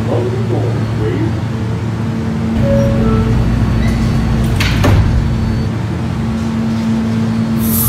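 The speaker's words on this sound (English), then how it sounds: "Stand clear of the closing doors, please." Subway train doors slide shut with a thud in a Roblox game, over a steady electrical hum and rumble, followed by low mechanical clunks.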